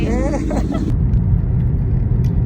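A car heading home in the evening gives a steady low road rumble from inside the cabin, with a brief voice at the start before the engine and tyre drone carries on alone.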